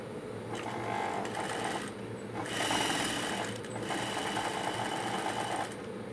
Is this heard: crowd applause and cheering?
no